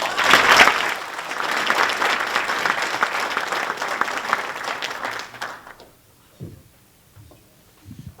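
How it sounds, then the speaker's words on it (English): An audience at a quarterly breakfast gives John a round of applause, dense clapping that holds for about five seconds then drops away, followed by quiet room noise and a voice starting to talk. "let's give him another round of applause"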